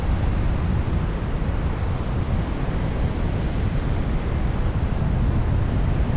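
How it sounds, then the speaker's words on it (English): Strong wind rushes steadily past the microphone in flight on a paraglider, a constant loud roaring buffet with no break and no voices heard. "Is it because of the wind?"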